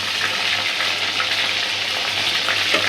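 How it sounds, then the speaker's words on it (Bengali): Large pieces of chicken fry crisply in a pan, giving a loud, steady, close sizzle that holds evenly throughout with no talk. "অনেকক্ষণ লাগায় ভাজছি"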